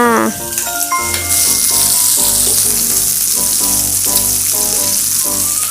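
Butter sizzling and crackling steadily over a grill at a backyard barbecue behind a townhouse, a loud continuous fry with soft clatter, while a voice speaks over it.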